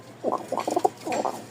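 Pigeons kept on a breeding farm give a brief run of soft, low cooing. The burbling notes are faint and close, with no talk.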